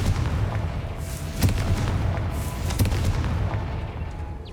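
Confringo fire spell blasts in the Hogwarts Legacy video game, two sharp explosive booms spaced a little over a second apart, punching out of a dense rumbling game soundscape.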